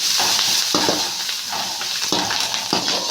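Onions with turmeric fry in a pan, giving a continuous close sizzle with periodic scraping stirs at a loose, uneven rhythm.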